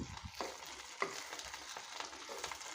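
Fish frying in a pan, a quiet steady sizzle with soft stirring and scraping, one sharper clink partway through.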